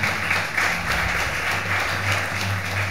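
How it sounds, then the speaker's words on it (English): Audience applause at a devotional stage performance for Nityananda Trayodashi, a steady wash of many hands clapping, moderately loud and continuous without talk. "Please give a big round of applause."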